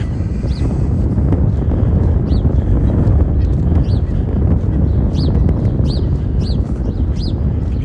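Strong wind buffeting the microphone outdoors beside Wascana Lake in Regina, a loud constant low roar throughout, with faint bird calls chirping repeatedly in the distance.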